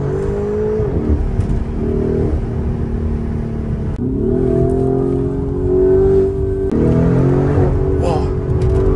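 Lamborghini Urus SUV engine pulling hard from inside the cabin, a steady loud drone that rises in pitch through the gears with shifts and a brief lull, cruising at sunset along a palm-lined road.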